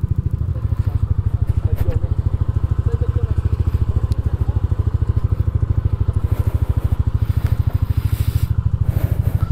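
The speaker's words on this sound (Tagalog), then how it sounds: "Ayan yung motor namin." A motorcycle engine idles steadily in a parked spot at a monastery in Tarlac, with a loud, even, low thumping pulse that runs throughout and no change in speed.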